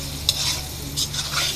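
Green chili and vegetables frying in a pan for chow mein, a soft steady sizzle broken by a few scraping stirs of a utensil, close and without talk.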